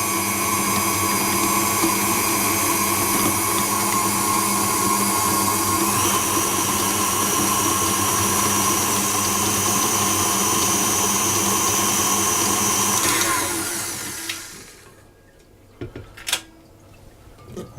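A stand mixer whisking butter runs with a loud, steady whirring motor hum for about thirteen seconds, shifting slightly in pitch, then winds down and stops, followed by a few faint knocks.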